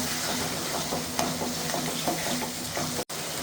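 Onion and green chili frying with a ginger, garlic and cumin paste in a pan, a continuous sizzle with stirring scrapes and soft clatter, ending in a brief sharp knock.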